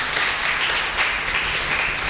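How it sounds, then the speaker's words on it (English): Audience at an Ignite talks session gives a speaker a big round of applause, dense steady clapping filling the short stretch without pause. "big round of applause for him."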